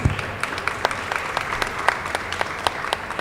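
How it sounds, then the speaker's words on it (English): Audience applause for a panel of writers and arts critics at a criticism discussion, steady clapping with sharp individual claps throughout, fairly close and alone without talk. "do we want to give a round of applause for our panelists?"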